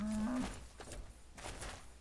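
Cattle in the Fallout 3 wasteland give one clear, low moo, followed by muffled thuds and scuffling sounds.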